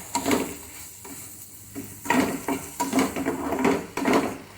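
Onions with pink salt stirred in a frying pan, a utensil scraping and clinking against the pan in several close, irregular strokes over a soft sizzle.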